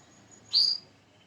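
A canary gives a single short, bright chirp, close and clear against a quiet background.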